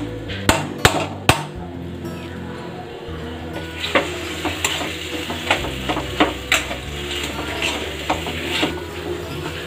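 Urad dal filling being roasted and stirred dry in a kadhai, starting with a few sharp metallic knocks, then a soft crackle broken by repeated spoon scrapes and taps against the pan.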